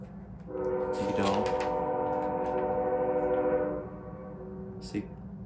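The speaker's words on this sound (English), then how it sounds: "Hear that train?" A passing train sounds a long, steady, multi-toned horn for about three seconds over a low background rumble. The blast fades out, leaving only the rumble.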